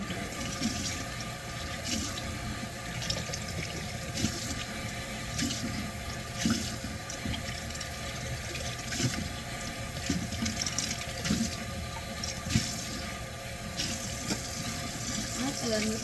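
Water from a tap runs steadily into a sink while cups used for offerings are rinsed with hot water, a continuous broadband wash with small clinks and splashes throughout.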